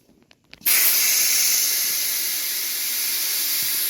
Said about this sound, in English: Is brake clean on that?